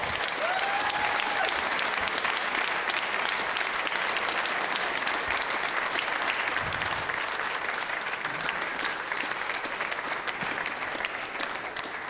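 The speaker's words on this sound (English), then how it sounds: "Round of applause for Nick Wall." Spectators at the Canadian Open squash finals applauding, a dense, even wash of clapping from a sizeable crowd, moderately loud and sustained for over ten seconds.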